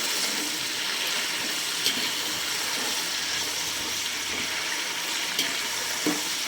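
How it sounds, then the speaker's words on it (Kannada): Two tomatoes stirred into a frying masala with fenugreek leaves for a country-style chicken biryani, giving a steady close hiss and sizzle with a few faint clicks of stirring. "ಆ ಟೊಮೆಟೊನೂ ಹಾಕಿ ಚೆನ್ನಾಗಿ ಮಿಕ್ಸ್ ಮಾಡೋಣ"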